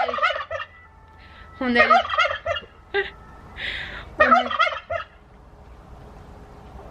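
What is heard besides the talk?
white turkeys gobbling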